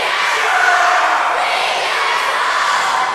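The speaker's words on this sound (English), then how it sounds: "The crowd here in Munford, Alabama, letting Beatdown Inc. know how much they love them." A wrestling crowd in Munford, Alabama cheers and roars for the team Beatdown Inc., a dense, loud wall of voices that holds steady throughout.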